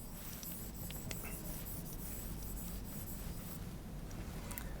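An eraser rubs writing off a board in a classroom lecture setting. The dry scrubbing is quiet and continuous, with a few sharper scratchy strokes, over a low room hum and without speech.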